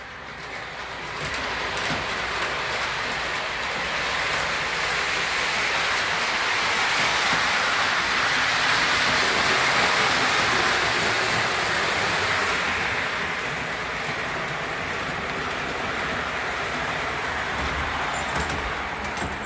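A steady, continuous rumbling whir of a small model train running along its track, holding level for most of the clip before easing slightly.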